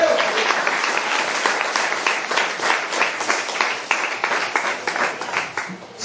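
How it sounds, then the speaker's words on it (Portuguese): A church congregation claps together in praise during a service, loud, dense, rhythmic applause that carries on steadily from start to finish, echoing slightly in the room. "Palmas para o Senhor Jesus."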